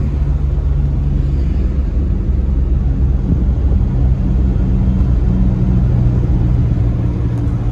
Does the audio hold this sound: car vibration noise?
yes